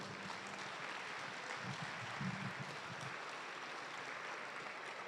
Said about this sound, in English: Let's give a round of applause to our teams.